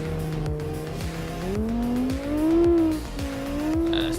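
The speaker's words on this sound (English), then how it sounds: "Seems to be powering its way up the hill nicely" A race car powers up a hill on a race course, its engine note climbing steadily and loud with gear-change rhythm and tyre noise, no talk over it.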